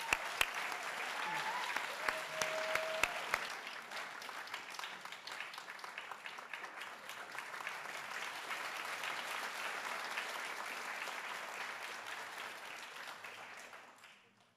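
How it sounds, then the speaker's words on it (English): A hall audience at a university welcome ceremony applauds a teaching award winner, with a few sharp claps at the start before sustained, even clapping that fades out near the end. "Please give him a round of applause."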